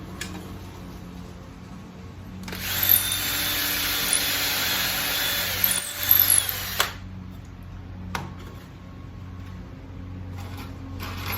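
A power drill whirs for about four seconds as it drives a 2-inch pocket screw into wood, ending with a few short bursts, then quiet workshop background.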